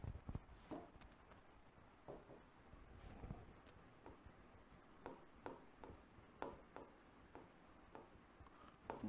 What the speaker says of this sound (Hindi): और दूसरी ओर हम लिखते हैं